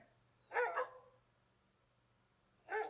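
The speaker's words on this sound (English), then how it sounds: "I'll go ahead and solo out the dog barks and see if you can hear it." A dog barking in sound effect clips: a quick double bark, a pause, then one more bark that cuts off at the end, faint against a low steady hum.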